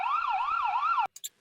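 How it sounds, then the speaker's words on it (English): A toy police car siren wails in a rising and falling electronic tone for about a second, loud and alone, then cuts off into a few short bright chimes. "A police car. Wee-woo! The police car speeds to the scene."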